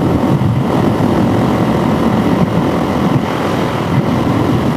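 Motorcycle engine fitted with a rebuilt garage engine, droning steadily while the bike is ridden, a loud continuous low rumble with rushing wind noise and no talking.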